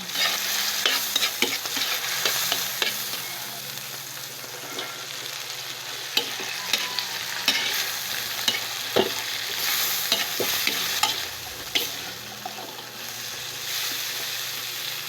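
String beans frying with tomato in a pan for adobong sitaw, stirred steadily with a continuous sizzle broken by repeated scraping strokes and spoon knocks, close and without speech.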